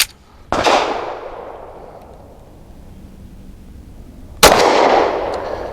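Two sharp, loud shots from a Tisas Night Stalker 1911 pistol firing Hornady Critical Defense 185-grain FTX rounds, each a sudden crack followed by a long echoing decay, spaced about four seconds apart with no voices.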